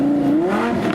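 A Lamborghini doing donuts on wet grass at a UK car park, its engine revving loud and near with a rising, wavering roar that climbs and dips through the spin.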